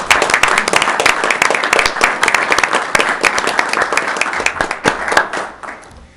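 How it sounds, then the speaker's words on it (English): Applause at a city council meeting, a moderately sized group clapping with sharp individual claps audible, loud and steady before tapering off at the end. "Give them a round of applause"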